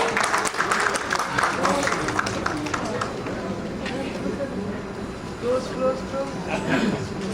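At a New York community celebration of Quaid-e-Azam's 149th birthday, an audience claps for Iqbal Khokhar, the applause scattered and mixed with crowd chatter and voices throughout.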